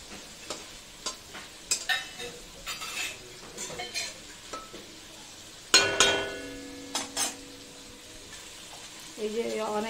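Hilsa fish frying with mustard in a pan gives a soft sizzle under repeated scraping and stirring with a utensil, with clinks of metal against the pan and one louder clatter midway.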